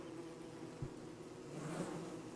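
A low, constant swarming drone of killer bees from Don't Starve Together, one short thud near the start and the buzz swelling a little louder toward the end, no voices.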